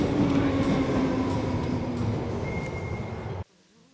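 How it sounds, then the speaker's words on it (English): Train noise at London Waterloo station: a steady, loud rumbling drone with a faint high tone, continuing evenly before cutting off abruptly near the end, with no talking. "We're Waterloo right now and we've got to get like one more train"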